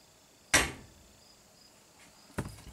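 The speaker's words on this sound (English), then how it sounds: "So I'm going to knock the vise with a hammer right here" Two sharp metallic knocks of a hammer on a bench vise, the first loud and ringing briefly, the second softer about two seconds later, in a quiet room.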